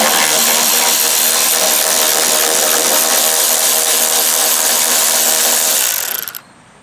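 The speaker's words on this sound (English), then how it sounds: "we're going to take out these two bolts that hold on the carburetor assembly" A power tool runs steadily for about six seconds while backing out the two bolts holding the carburetor assembly on a Honda Harmony lawn mower, loud and close, then cuts off abruptly.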